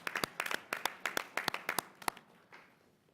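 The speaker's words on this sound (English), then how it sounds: "give everyone one more round of applause" A small gathering at a county board meeting gives a brief round of applause: a dozen or so distinct, sharp claps in an uneven rhythm, quiet and sparse, fading out after about two seconds.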